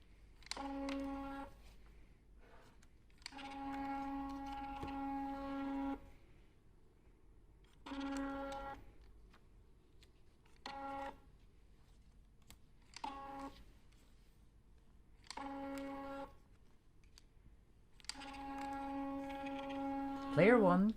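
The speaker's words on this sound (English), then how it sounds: "letting the machine deal the initial deal" An automatic blackjack machine dealing cards gives off a series of buzzing, tonal mechanical whirs in separate bursts, each a second or two long, with quiet pauses between them.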